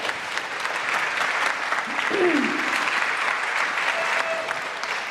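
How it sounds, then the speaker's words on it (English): A theatre audience applauds its donors at a season launch event, steady dense clapping throughout, with a voice briefly heard over the crowd. "To all of our donors, you can clap."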